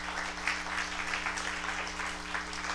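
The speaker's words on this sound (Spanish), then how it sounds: "démosle otro fuerte aplauso al Señor" Church congregation gives a long, steady round of applause to the Lord, a soft continuous wash of clapping over a low hum, with no talking.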